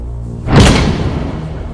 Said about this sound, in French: il me ferme la porte au nez